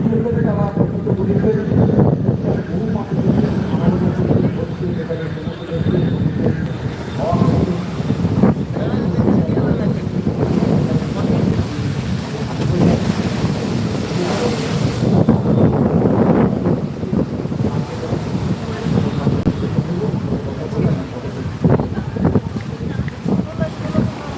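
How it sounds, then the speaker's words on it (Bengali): Wind-whipped, rough sea at Digha churns steadily, loud surf rumbling beneath heavy gusts that batter the microphone, with a voice talking faintly at moments over the roar. "একেবারে উত্তাল রয়েছে সমুদ্র"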